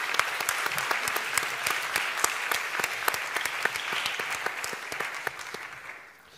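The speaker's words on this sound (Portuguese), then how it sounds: "Um novo aplauso." An audience at a theatre ceremony applauds with dense, crisp individual claps that stay lively and close, then thin out and fade toward the end.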